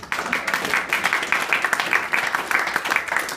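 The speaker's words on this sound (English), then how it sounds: "Special round of applause." A crowd applauds steadily and fairly loudly, many hands clapping in a dense, continuous patter from start to finish.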